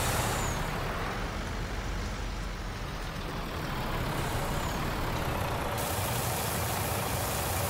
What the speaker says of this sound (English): It's a nice truck, that Tara.